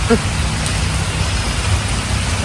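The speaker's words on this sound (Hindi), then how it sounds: "ये तेज आ गई बारिश एकदम" Heavy rain pours down in a dense, steady roar, with a low rumble underneath and someone talking briefly over it.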